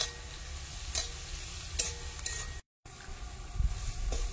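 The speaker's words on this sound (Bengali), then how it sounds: "সয়াবিন গুলো দিয়ে দিচ্ছি কড়াইয়ে।" Soybean chunks frying in hot oil in a wok, a constant sizzle broken by a few sharp stirring scrapes and clatters, close and fairly quiet, with a brief dropout partway through.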